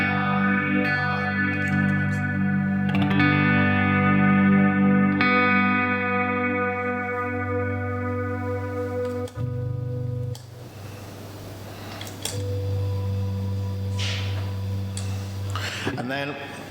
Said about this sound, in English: this is a lovely vortex one again. So that's the vortex one with a very slow modulation in it